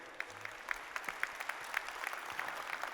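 Audience applause at a corporate keynote, a steady, distant patter of many hands with occasional sharper claps standing out, and no talking over it.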